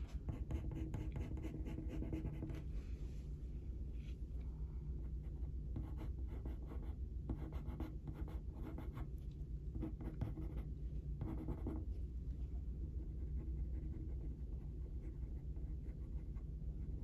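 A sharp coloured pencil in Payne's Grey scratches steadily across paper while shading a robin drawing, a continuous close dry scribbling texture with brief pauses between strokes.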